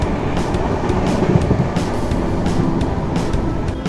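Superfast Mail train from Chennai to Bengaluru, heard from on board at night behind a WAP-7 electric locomotive. A loud, steady rumble carries rhythmic clickety-clack of wheels over rail joints.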